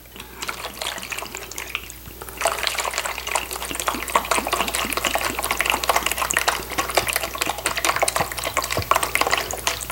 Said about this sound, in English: I'm going to pour it together and mix it up.